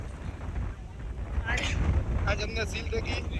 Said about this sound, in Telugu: చూసారు కదా ఎంత విండ్ వస్తుందో, ఎందుకంటే మనం ఇక్కడ ఎడ్జ్ దగ్గర నిలబడ్డాం కాబట్టి.